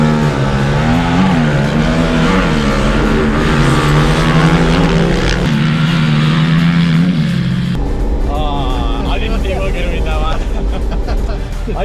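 Quad bikes race nearby, their engines revving and whining up and down in pitch, loud and close, while people talk over the noise.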